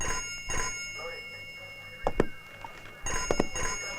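A telephone rings in a Hindi thriller film, its bell sounding in repeated short bursts with pauses between rings, moderately close over a quiet room with a faint steady hum.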